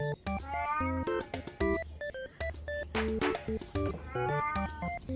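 A cat meows over lickable cat food, giving repeated close, insistent cries in quick, uneven bursts. A brief hiss of rustling cuts in partway through.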